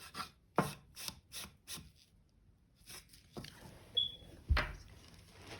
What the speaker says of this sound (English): Rub that little bit of paint in.